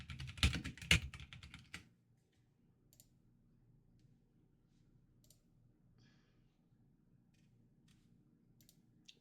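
A burst of rapid computer keyboard key clicks up close, lasting under two seconds, followed by near silence with a few faint scattered taps.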